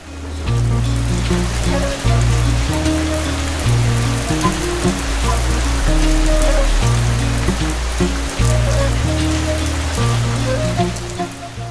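Steady cartoon rain patters continuously through the whole stretch, loud and dense, layered over a looping tonal music bed.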